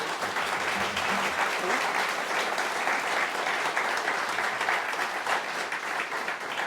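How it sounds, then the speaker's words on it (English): Warm, sustained audience applause for David Abrahamovitch, founder and CEO of GRIND, at a live talk, steady dense clapping with faint voices beneath. "Can we have a massive round of applause for David, please?"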